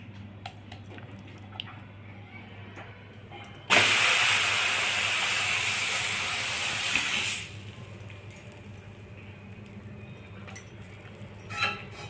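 Rice masala roti batter hits a hot griddle with a sudden loud sizzle that holds steady for about four seconds, then cuts off, leaving a quiet kitchen with faint clinks.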